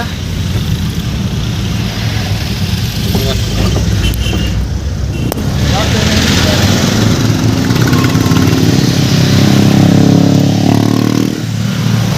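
Engines drone loudly and continuously as motorbikes rumble past nearby, the roar swelling and easing without a break.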